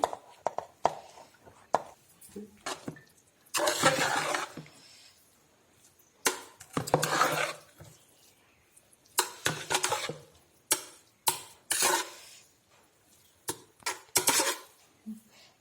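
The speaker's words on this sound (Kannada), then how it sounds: "ಇದಕ್ಕೆ ನಾನು ಅನ್ನ ಹಾಕಿ ತೊಳೆಸುತ್ತಿದ್ದೇನೆ" A spatula works cooked rice into a tomato mixture in a pan for white tomato bath, making repeated close scraping and stirring strokes in uneven bursts with short pauses and no voices.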